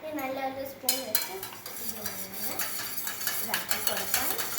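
A spoon stirs salt and sugar into lime juice and water, making light, repeated clinks and scrapes against the glass. The sounds come in an uneven rhythm and stay fairly faint and close, with no talking over them.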